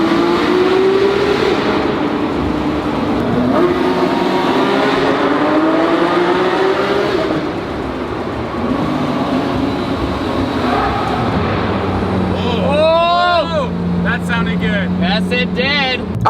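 A McLaren P1 and a Ferrari 812 supercar rev in a tunnel, loud reverberant engine roar with rising pitch sweeps, then a sharp burst of revs near the end, with voices over it.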